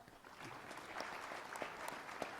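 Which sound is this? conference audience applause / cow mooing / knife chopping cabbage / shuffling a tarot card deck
conference audience applause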